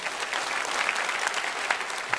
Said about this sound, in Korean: 오늘 우리 교회 처음 등록한 새 가족을 박수로 환영하겠습니다